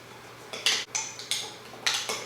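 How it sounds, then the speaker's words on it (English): Metal spoon scraping and clinking against a bowl while coffee grounds are stirred into a homemade vanilla spice coffee scrub mixture, several distinct scrapes in an uneven rhythm, close and fairly quiet, with no talking. "and stir everything up again."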